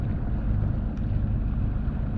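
A sailboat motors along with its sails up, its engine a low, steady drone beneath rushing wind and water noise, continuous and fairly close.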